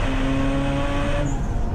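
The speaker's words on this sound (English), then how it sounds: "the rotary engine Mazda" A Mazda RX8 with a rotary engine races at Snetterton, its loud, steady engine drone sustained close by, with a sharp tone shift near the end as it passes.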